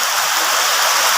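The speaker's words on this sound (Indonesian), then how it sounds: "Suasana hujan deras, ya." Heavy rain pours steadily in a village in Trenggalek, a dense, loud, unbroken hiss with no other sounds standing out.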